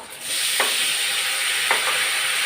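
Onions fry in a hot pan with a bright, continuous sizzle, broken twice by soft scraping stirs; no voices.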